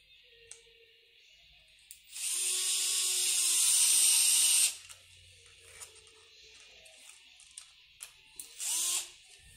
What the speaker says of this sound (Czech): má to sílu na to, aby to zatočilo ty vruty i přes tu sádru, přes takový ty zbytky, co tam jsou